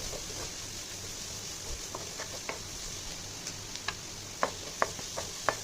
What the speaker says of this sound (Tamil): ஒரு வெங்காயம் குட்டி குட்டியாக நறுக்கணும்னா அதையும் இதோட சேர்த்துக்கிட்டு நல்லா வதக்கி விட்டுக்கலாம்